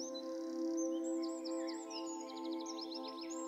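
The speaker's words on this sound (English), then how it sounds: "Listen to the bird song" Spring birds chirp and tweet in short, quick repeated calls over a steady, droning musical tone, fairly soft and somewhat distant.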